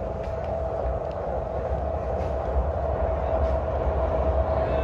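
A Konkan Railway train rumbles past continuously beside a river, a steady loud roar of wheels and carriages with a faint clickety-clack and no talk.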